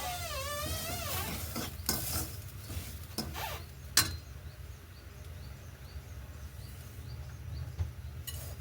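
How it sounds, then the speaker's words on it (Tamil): Semolina being stirred into a pan for upma, a soft scraping and sizzling that runs steadily throughout, with a few sharper clinks of the spoon against the pan. "ரவையை சேர்த்துக்கொள்ள போகிறோம் அதை ஒரேடியாக போடாமல் கொஞ்சம் கொஞ்சமாக போட்டு கிண்டி விடுவோம்"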